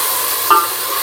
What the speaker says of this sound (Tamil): நல்லா மெரூன் கலர்ல வதங்கணும்